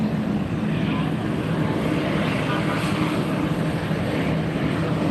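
A Southwest jet airliner coming in to land at Fort Lauderdale International Airport, a broad, steady roar of engine noise that holds loud and continuous, with faint voices beneath it.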